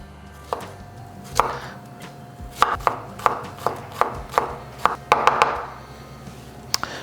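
A knife slices garlic cloves on a cutting board, with about a dozen crisp taps at an uneven, unhurried pace, including a quick cluster near the end. Each cut is close and clear, with no talking.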